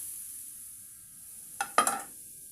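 Grated coconut powder in hot ghee in a pan for coconut laddu: after a quiet start, a few short sizzling bursts with stirring scrapes come close together near the end.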